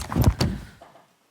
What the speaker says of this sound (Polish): Nagle otwierają się drzwi i pada rozkaz.